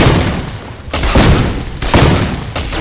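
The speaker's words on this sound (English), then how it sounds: "Yay, explosions. I have explosive rounds." Explosive revolver rounds detonate in Deus Ex: Human Revolution: loud, close booming blasts, several heavy thuds in quick succession with dense rumbling between them, no speech over them.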